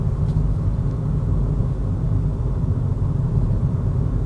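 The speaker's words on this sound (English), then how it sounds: "This electric car is just whisper quiet" Cabin of a 2013 Nissan Leaf electric car accelerating to about 40 mph, heard as a steady low road rumble and tire noise with no engine note, constant and moderately loud without talking.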